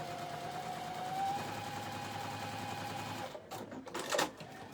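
A Juki 2010 sewing machine runs steadily in close-up with an even mechanical whir, then the motor stops and a few brief clicks and a louder clack follow near the end.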